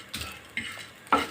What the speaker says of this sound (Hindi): अब हम सूखे मसाले जो हैं वो अपने रोस्ट कर लें